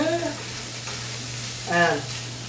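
Rutabaga home fries sizzle in duck fat with garlic in a pan, a steady, soft frying hiss as they're stirred, with brief talking over it.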